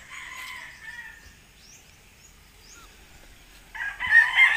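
A chicken perched high in a tree crows in a short burst near the start, followed by quieter calls and a louder crowing call near the end, fairly close and without talk.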